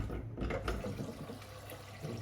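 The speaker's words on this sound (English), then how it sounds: "So I'm going to add some more water to this." Water is poured into a pan of peas being prepared for boiling, a short soft steady splashing trickle heard close and fairly quiet.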